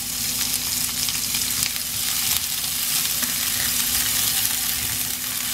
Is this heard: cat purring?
no